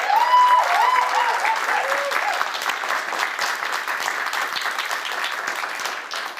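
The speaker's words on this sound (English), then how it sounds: "Let's give them a round of applause again, please." Audience applause for the authors at an Edinburgh book festival event, with many people clapping steadily and fading slightly toward the end, while a brief cheer or whoop rises at the start.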